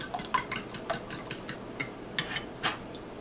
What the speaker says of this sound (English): And scramble it up.